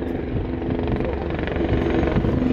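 Military helicopters, including a Tiger attack helicopter, fly at a Bundeswehr open day air show in Faßberg, giving a steady loud rotor and engine drone with a mild throb.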